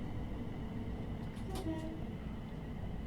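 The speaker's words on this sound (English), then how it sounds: "Here's another train." Class 465 electric multiple unit rumbling past in Train Sim World 4, a steady loud rolling roar of wheels and motors throughout with a brief brighter squeal midway.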